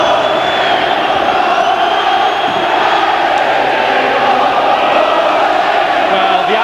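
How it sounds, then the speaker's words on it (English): A Wrexham football crowd roars steadily at the Racecourse Ground after a late goal against Ipswich Town in a 1995 FA Cup third-round tie. The cheering is loud, dense and sustained from start to finish. "The Wrexham crowd have responded"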